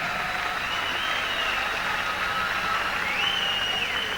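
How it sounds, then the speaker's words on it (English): Steady, dense applause from a boxing audience fills the arena after a bout, a constant even roar of clapping with no pauses. "a big round of applause for our Victorian challenger"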